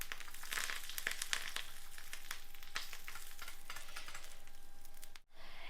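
Mustard seeds, curry leaves and red chilli tempering in hot ghee for curry leaf tambuli, a close, steady sizzle dotted with sharp pops and crackles, with a brief gap near the end.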